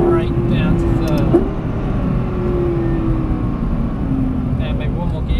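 Lexus LFA braking hard and downshifting to third on the Silverstone circuit, a loud steady engine drone with a falling pitch sweep as revs drop, heard from inside the car with a brief spike midway.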